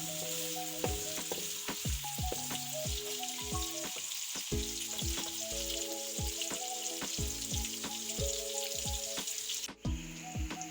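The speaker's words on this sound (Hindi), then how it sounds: "हम फ्राई कर लेंगे प्याज पकने पर" Onions sizzle steadily in a hot pan, with a constant crackling hiss and repeated scraping clinks of a spoon stirring, close by.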